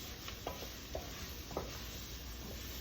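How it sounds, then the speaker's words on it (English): Spices are stirred into vegetables for chicken and dumpling soup in a pan, with faint scraping strokes of a utensil over a steady sizzling hiss, no talk. "So we'll take these spices, we'll add those in, and mix it up."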